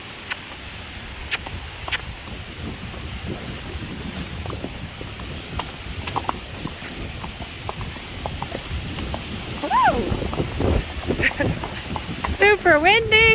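Strong gusting wind buffets a horse trail during a windstorm while riding an off-track Thoroughbred, a steady broadband roar with occasional hoof clatter and a voice talking over it.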